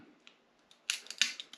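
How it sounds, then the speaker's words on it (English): Cutters snipping melted plastic out of a dash switch on a 2003-2006 GM truck, a couple of close crisp crunching snips after a quiet lead-in. "So I'm just going to take my cutters here and cut as much of that out as I can."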